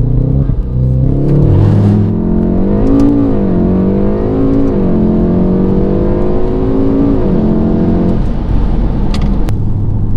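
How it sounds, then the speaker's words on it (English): A Volkswagen Golf R with a JB4 stage 1 tune, in sport mode with traction control off, launches hard from a standstill to 60 mph. Its engine note climbs steadily through the gears, loud and close, with no talk over it. "I'm going to find a bit of a spot, and then we'll do a 0 to 60."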